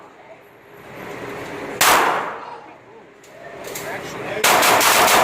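A handgun fired on a shooting range: two loud, sharp shots a few seconds apart ring out against quiet outdoor background, with someone speaking briefly.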